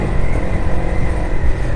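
Busy road traffic with many cars and motorcycles, heard from a moving motorcycle, a steady loud engine drone and road rumble with passing vehicle noise blending into one continuous wash.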